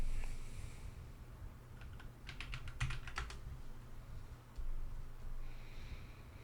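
Computer keyboard typing in bursts of quick clicks, clustered mid-clip with a few scattered keystrokes later, close and fairly quiet over a low steady hum, with no talking.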